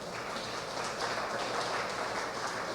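A church congregation applauds together, a dense, even wash of clapping held at a steady level for a few seconds.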